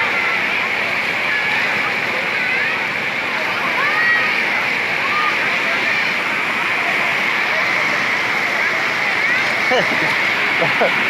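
Water pours strongly over the Huai Saneng reservoir overflow in Surin, a steady, loud rushing roar with no pause, heard close with voices of a crowd of visitors mixed in.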